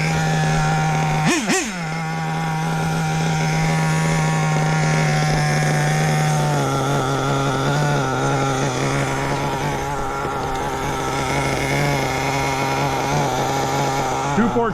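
Hobao VS2 nitro RC car engine idling, a loud, close, buzzy two-stroke drone with a quick revving blip early on, then settling into a steady, slightly wavering idle that holds for the rest of the stretch.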